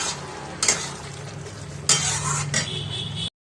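Chicken malai koftas sauté in a pan with stirring, a close sizzle broken by three sharp scraping stirs of a utensil against the pan before stopping abruptly.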